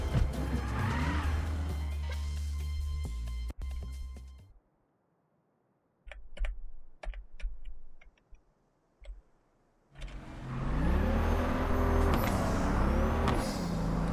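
A car engine in Cyberpunk 2077 revs with rising and falling pitch, then cuts out into near silence broken by scattered ticks and clicks before the engine roars back.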